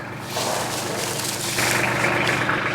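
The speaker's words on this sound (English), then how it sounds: "I'm going to let this tractor warm up a few more minutes, get up to operating temperature." A diesel tractor idles while warming up before hay work: a steady low, even engine rumble with a slight knocking texture, close and continuous, growing a touch louder partway through.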